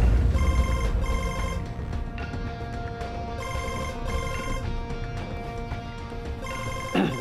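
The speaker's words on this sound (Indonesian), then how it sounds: "akhirnya lo angkat juga telepon gua, Baron, Baron" Mobile phone ringtone ringing in an Indonesian TV drama scene, a repeating electronic ring pattern in bursts over a steady background, loud and close, with no talk.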